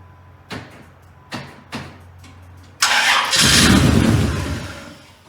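An old barn-stored car, left sitting for three years, cranks over in three short bursts before its engine catches and roars loudly, then settles into a rough idle.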